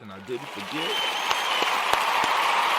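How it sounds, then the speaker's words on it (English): Applause swells from a crowd and keeps going steadily, a dense wash of clapping that starts just after a brief spoken line. "I want to give the Imani born a round of applause"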